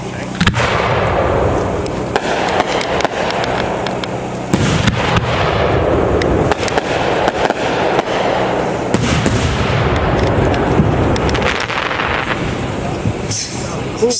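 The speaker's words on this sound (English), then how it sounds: "We're shooting 3 of these on a 5-second time chain. These all have rising breaking flowers out of the Gin Shan assortment." Aerial 3-inch-class firework shells from a Gin Shan assortment, fired three on a 5-second chain, burst loudly with rising breaking flowers into crackling, booming volleys, with people talking over the blasts.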